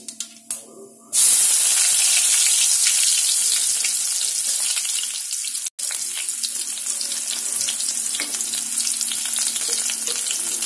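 Mustard seeds and onion hitting hot oil for a cluster bean sabzi, a loud sudden sizzle that bursts in after a few knocks and holds as a dense crackling hiss, close up with no talking.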